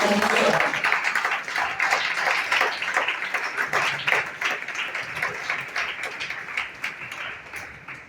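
Church congregation applauding, a sustained wash of many hands clapping that stays fairly loud throughout and tapers slightly toward the end.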